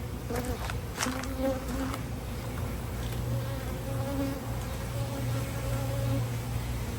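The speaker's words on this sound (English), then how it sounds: "Looking at this bee right now. It's all over my camera, and it is in my grill" A bee buzzes right up against a camera set beside a garden grill, its steady drone loud and close throughout with slight swells as it moves.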